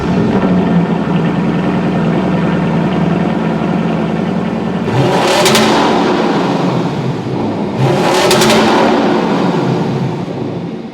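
A Lexus LC500's naturally aspirated 5-liter 2UR-GSE V8, heard idling with a steady burble, then two loud, sharp revs climbing and falling back, close to the car with no talking.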